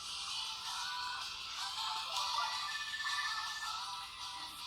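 An incoming phone call rings in the PSP dating game AKB 1/48 after a girl is picked on the selection screen. The ringing is a faint, steady electronic tone that runs throughout, with no voices.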